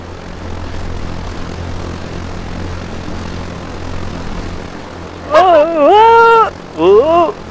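A drone flying in the Arma 3 video game gives a steady, close propeller-engine drone throughout, with a voice exclaiming briefly over it near the end.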